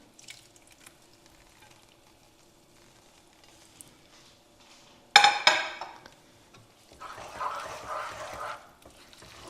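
Tomatoes are tipped into a hot frying pan on a gas stove for a stuffed-pepper sauce. A sharp clatter is followed by a rising, steady sizzle, close by and without talk.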